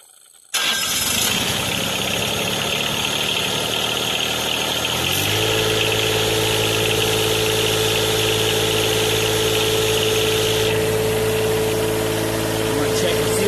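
A John Deere 1023E compact tractor cranks briefly, catches and starts, then settles into a loud, steady diesel idle close by, with a slight shift in tone partway through.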